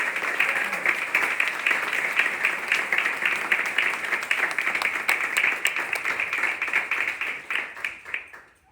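Dense, sustained applause from a theater audience at a groundbreaking ceremony, steady clapping throughout for about eight seconds before tapering off at the end.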